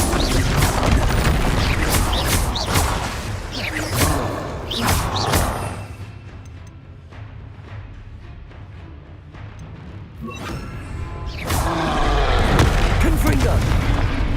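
Booming Confringo spell blasts from Hogwarts Legacy thud loudly in clustered bursts, fading to a quieter rumble midway before more blasts return.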